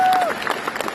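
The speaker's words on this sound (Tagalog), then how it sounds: "Palakpak naman po" Convention audience at a national gathering of CIA Bayanihan clapping together in a hall; a short burst of loud, dense applause that starts abruptly and carries on with crowd noise, while a tone fades out at the beginning.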